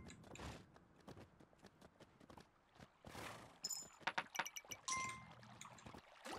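Coins clink and jingle in Kingdom Two Crowns: a quick flurry of small bright metallic chinks over soft footsteps and ambient game sounds, fairly faint.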